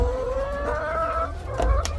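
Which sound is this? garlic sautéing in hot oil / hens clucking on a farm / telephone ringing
hens clucking on a farm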